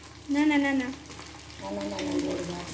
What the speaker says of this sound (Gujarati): પછી તે તેલમાં મૂકવાના, એવા કટકા કરીને